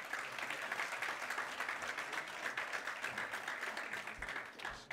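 A crowd at a rugby squad announcement claps hands in a sustained, even round of applause, soft and somewhat distant throughout, without speech over it.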